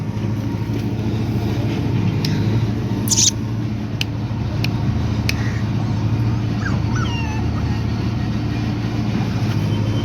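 Tiny puppies whimpering and yipping in a parked lorry after a cotton bale load, several faint high cries scattered over a steady low engine or road rumble.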